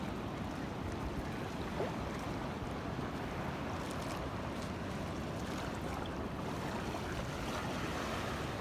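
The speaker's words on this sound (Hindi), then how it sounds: "This is how a river and an ocean over here is getting merged." Ocean surf where a river flows into the sea at Malvan, a steady broadband wash of waves with wind buffeting the microphone, continuous and fairly close throughout.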